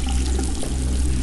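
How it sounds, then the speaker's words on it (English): Shower water runs steadily and loudly in a video game, a continuous hiss of spray with no break and no talking. "I needed to take a shower."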